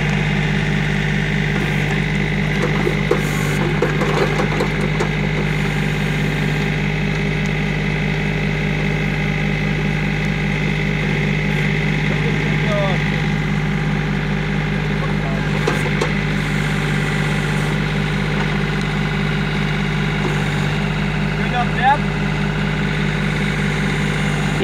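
A John Deere compact tractor engine idles steadily throughout, a constant low rumbling hum with faint voices and occasional clanks in the background during backhoe work.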